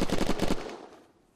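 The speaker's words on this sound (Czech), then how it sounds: "já budu muset asi zničit ty trezory teďka kulometem" A tank's machine gun fires in a video game, a loud rapid burst of five or six shots that ends and fades out quickly.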